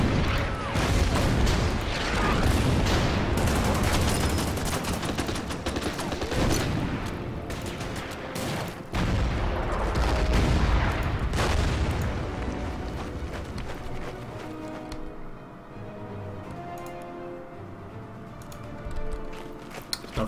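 A bombing attack in the war strategy game Order of Battle rumbles with dense rolling explosions and crackling gunfire, loud and continuous before fading into lighter scattered blasts.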